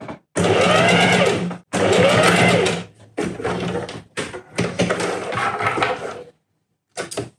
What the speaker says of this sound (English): I'm keeping my eye right here to know that I'm always stitching through the center of it